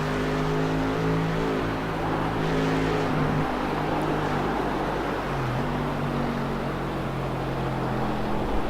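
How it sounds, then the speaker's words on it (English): A GT3 race car at speed at Silverstone, its engine a loud, steady roar with shifting harmonic tones as it closely chases another car down the straight toward the last corner. "This is Frelick's vehicle"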